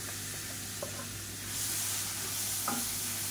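Finely chopped onions sizzle in a pan with a steady hiss, broken by a few short stirring scrapes. The hiss swells louder partway through, and there is no talking.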